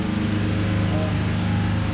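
A tractor engine, an open-station conversion of a former cab tractor, idles steadily and fairly loud with a constant low drone throughout.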